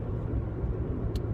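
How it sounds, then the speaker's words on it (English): A car's steady low engine rumble and road noise from inside the cabin while driving to the stables, close and continuous, with no talking. "I'm now actually driving to the stables"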